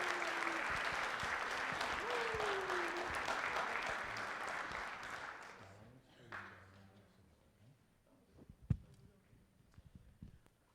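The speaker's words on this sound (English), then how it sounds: "how about a round of applause for these guys just to make them feel a little more at home" An audience at a junior high school winter concert applauds loudly for about six seconds, then the clapping fades and a few scattered claps and small noises remain.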